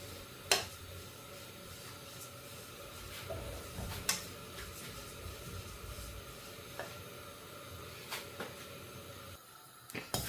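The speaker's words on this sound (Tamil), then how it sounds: "இப்போ இந்த எள்ளை நல்லா நாங்கள் வறுத்தெடுப்போம்." Sesame seeds dry-roasting in a pan for laddu, a faint continuous rustling sizzle with occasional sharp clicks and scrapes from stirring, no voices.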